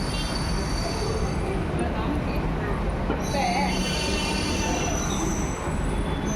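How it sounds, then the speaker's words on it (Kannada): A metro train runs at speed, a loud continuous rumble with squealing wheels and metallic rail noise throughout, with voices faintly mixed in. "ಇವಾಗ ಮೆಟ್ರೋದಲ್ಲಿ ಟ್ರಾವೆಲ್ ಮಾಡಬೇಕು ಗೈಸ್"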